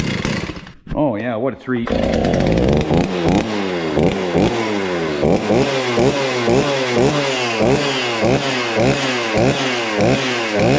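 A Stihl chainsaw sputters, catches and roars to life, then runs loud and close with rhythmic revving pulses; someone speaks briefly near the start.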